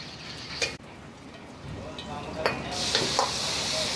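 Steady crackling sizzle of spices frying in hot oil for dal makhani at a Punjabi dhaba in Chotila, with a few sharp clinks of a utensil against a pan, growing louder toward the end.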